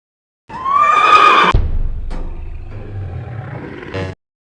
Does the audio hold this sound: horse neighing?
yes